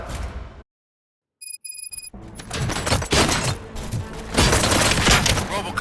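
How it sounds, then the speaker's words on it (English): Gunfire rattles in the video game Robocop: Rogue City, a dense run of loud shots and impacts following a brief silence. "Gunshots? What's going on?"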